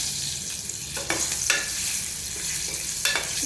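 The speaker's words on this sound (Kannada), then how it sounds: "ಚೆನ್ನಾಗಿ ಫ್ರೈ ಆಗಬೇಕು ಚಿಲ್ಲೀಸ್." Cut green chillies fry in a pan for egg biryani, giving a steady close sizzle with a few sharp stir scrapes and pops.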